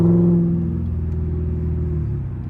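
A Lexus IS-F accelerates hard, its engine giving a loud, close, steady droning roar that holds for a couple of seconds and eases slightly toward the end.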